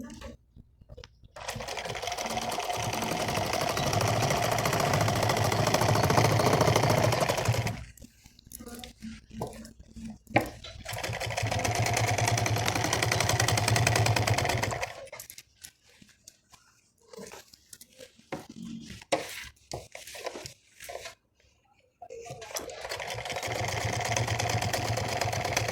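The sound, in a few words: sewing machine stitching elastic on a saree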